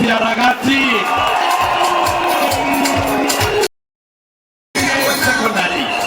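A large crowd at a political rally in Mathira roars, cheers and whoops loudly and continuously, with shouted voices mixed in, cut by a sudden second of silence before the noise resumes.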